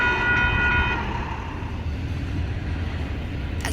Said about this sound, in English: we meet a Union Pacific intermodal train